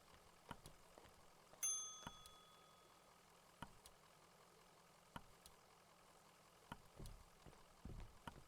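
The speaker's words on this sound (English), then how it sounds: "Bell." In Ghostbusters: The Video Game, a single bright bell ding rings out with a lingering tone, followed by quieter scattered clicks and knocks over a faint low hum.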